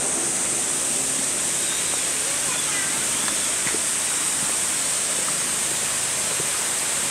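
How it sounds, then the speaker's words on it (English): Gyoran waterfall at Kamiura, a steady broadband rush of falling water, constant and close, with a faint voice briefly over it. "There's the waterfall."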